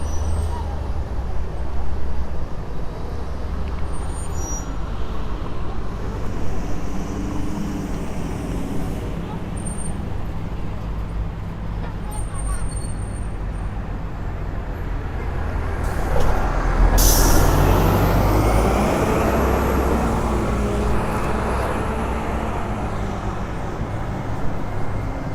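Traffic rolls along a Miami street beside a waterfront, a continuous low roadway rumble with vehicles swelling past, one louder pass near the middle, and a brief hiss like an air brake.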